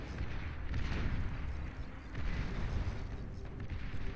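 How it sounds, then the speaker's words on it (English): Aggravator units in Beyond All Reason fire on a T2 lab, a dense rumbling barrage of overlapping booming shots and mechanical churn that stays loud and continuous throughout. "Now the aggravators are firing at the T2 lab."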